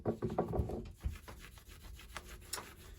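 A cloth soaked in WD-40 rubs over permanent marker on a motorized bike part, giving soft irregular scrubbing strokes, close and faint, with no talking.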